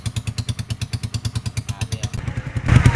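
A motorcycle idles close by at a wharf, its exhaust putting out fast, even, tinny rattling pulses like a tin can before the engine revs up near the end.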